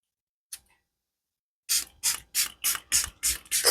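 A single faint click, then seven short, close spray bursts from an aerosol can in a steady, even rhythm.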